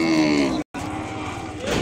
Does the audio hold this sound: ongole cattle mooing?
yes